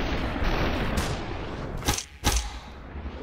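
Enemy gunfire in SUPERHOT, with a loud, sustained rush of noise followed by two sharp, bright shot cracks in quick succession, close and forceful, with no talking.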